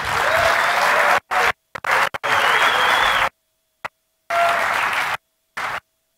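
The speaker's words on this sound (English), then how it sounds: "let's give him a big round of applause" An audience at a KubeCon technical conference applauds a speaker with dense, steady clapping. The sound is repeatedly cut off by abrupt silent gaps and returns in short bursts.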